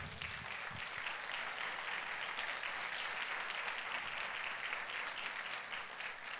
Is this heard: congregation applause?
yes